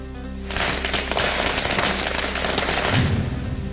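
Firecrackers burst during a street celebration in Badlapur, a dense rapid crackle of loud pops sounding alone after a short quieter start.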